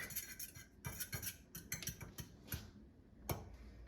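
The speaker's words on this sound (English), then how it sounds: "And mix it with a fork." A fork clicks and taps rapidly against a bowl, mixing eggs with cheese in an irregular stirring rhythm, close and fairly quiet, with no talking.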